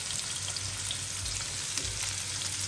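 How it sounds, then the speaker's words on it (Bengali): Onions sizzling in a pan after fried katla fish, a close, steady crackling hiss with a low rumble underneath and no voices. "আর এখন একটু পেঁয়াজ দিয়ে দিচ্ছি"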